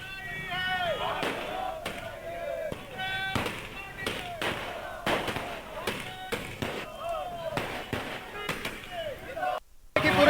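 Celebratory fireworks set off by party workers at the main town square in Sitarganj, a series of sharp bangs and thuds at irregular intervals, with voices heard between them.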